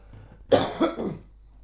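A man coughs close to a microphone: one harsh burst, then a rougher second cough and a short throat-clearing tail.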